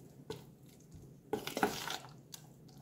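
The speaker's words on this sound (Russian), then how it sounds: "Теперь это все хорошо-хорошо смешиваем." Egg and finely grated cheese being stirred together in a bowl, a faint scraping and clinking that swells into a brief burst of brisk mixing in the middle, with no talking.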